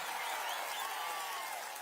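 Applause from a large crowd at a Prajagalam political rally in Visakhapatnam, a steady, dense wash of clapping held for the whole moment with no break and no voices over it.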